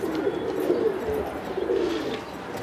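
Soft, low coos from domestic pigeons in Mumbai repeat in a steady burbling murmur, fairly close, with a faint background hiss.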